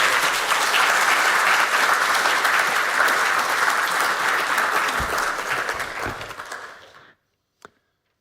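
Audience at an inaugural university lecture applauds warmly to welcome the lecturer, dense steady clapping from a roomful of people that holds for about six seconds, then tapers off into silence, with a single faint knock afterward.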